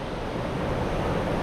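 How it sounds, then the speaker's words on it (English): A waterfall in the Blue Mountains roars as a continuous, dense rush of water, steady and moderately loud with no other sounds. "I can hear the waterfall."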